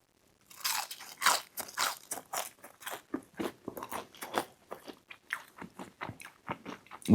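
Someone bites and chews crunchy Sonic Drive-In fast food up close, a series of sharp crisp crunches that settle into softer rhythmic chewing, clear and loud with no talking.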